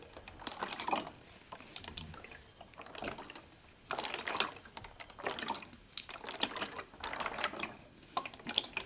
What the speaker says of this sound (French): Peut-être est-ce que je rame un petit peu trop vite